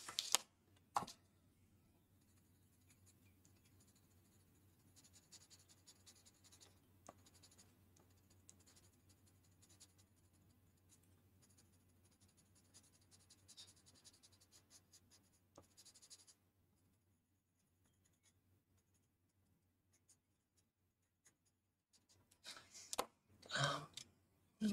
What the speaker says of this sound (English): But once you blend these pencils right in, they're